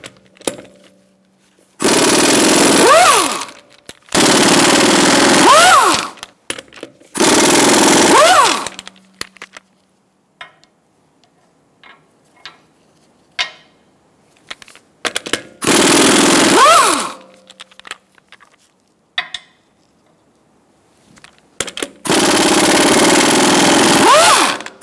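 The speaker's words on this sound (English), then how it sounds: "Using a 19 millimeter socket, we're going to remove our wheel." An impact wrench with a 19 mm socket removing a wheel from a 2012-2018 Ford Focus, heard as five loud rattling bursts of a few seconds each with quieter clinks and handling noises between them.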